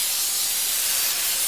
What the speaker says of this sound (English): This is just simply canola oil, cheap stuff. I'm spraying all the way down to the bottom.